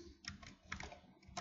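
Soft, quick keystrokes on a computer keyboard, a few irregular taps and short clusters, quiet and close, with no speech.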